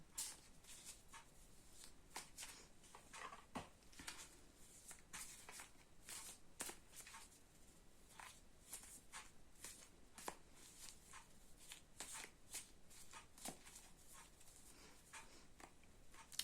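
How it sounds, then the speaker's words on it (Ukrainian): A Rider-Waite tarot deck is shuffled over and over, with soft papery riffles and light taps. Quiet, close and steady with no voices. "Беремо нашу колоду Таро Райдера Вейта і тасуємо."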